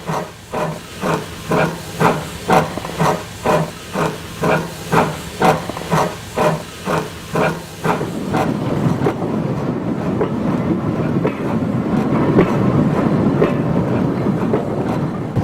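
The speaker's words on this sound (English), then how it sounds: "Later in the day, Sagoma shunts the sidings located north of Mountain Ash" A steam locomotive shunts industrial sidings at Mountain Ash, Wales, with a run of rhythmic exhaust chuffs that give way to a sustained loud hiss of steam and the rumble of rolling wagons.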